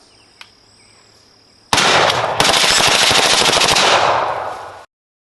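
A Graves Alamo-15 rifle fitted with a Tommy Trigger FRT selector kit lets off a loud, rapid unbroken string of shots for about three seconds, preceded by a faint click and quiet background.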